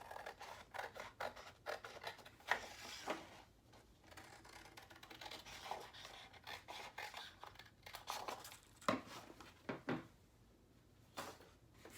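Scissors cut a paper piece for a patriotic tier tray craft, giving soft, close snips and paper rustles in an uneven series with short pauses.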